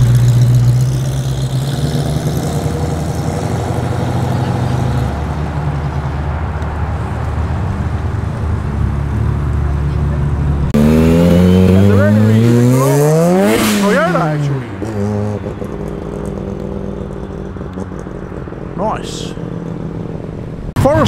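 A Ford Mustang muscle car idles with a deep rumble at a large car meet, then revs and roars loudly as it pulls away, while people talk nearby.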